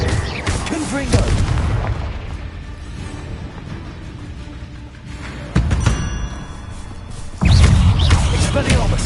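Confringo blast spells cast in Hogwarts Legacy, heavy booming bursts landing several times, loud and close, with someone talking over the impacts.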